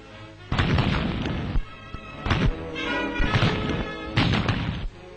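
A Lee-Enfield No.3 (Pattern '14) rifle fires several times, each shot a loud booming crack with a rumbling tail, spaced about a second or more apart and heard fairly close without talk.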